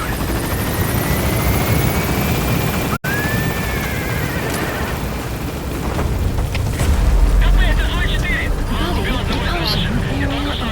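A helicopter lifts off in the video game Metal Gear Solid V with a loud, steady rotor roar and engine whine that swells and builds as it climbs, with game radio voices heard over it.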